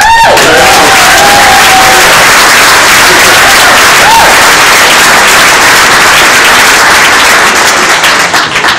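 An audience at a One Sky Community Services celebration applauds an award recipient, with loud, dense clapping and some cheering filling the room continuously.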